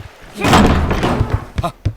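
A door is kicked in, giving a heavy, close thud and slam with a short wooden rattle after it, while voices talk around the impact.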